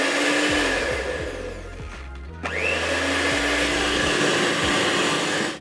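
An electric mixer whirs loudly and close while beating self-raising flour into custard cookie dough, a steady motor drone that briefly drops in pitch and speed before surging back up.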